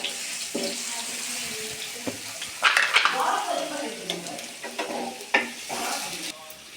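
Chicken skins sizzle and fry in a hot pan while being stirred, with sharp scraping and clattering stir strokes over a steady frying hiss, close and moderately loud, for making chicken haleem.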